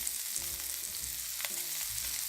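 Onions sizzle and fry steadily in a hot pan, a continuous close crackle with some pieces starting to burn, alone without talk.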